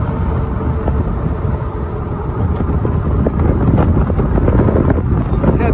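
Wind rumbles into the microphone while an AWD e-bike is ridden into a headwind, a constant loud low roar with no letup throughout.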